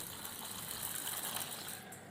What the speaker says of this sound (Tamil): இதை முதல்ல நல்லா கழுவிட்டு வந்துடுறேன்